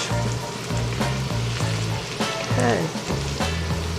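Onions fry in a pan with a dense, steady sizzle and crackle, close and loud, while a stirring rhythm runs through it and a voice speaks briefly.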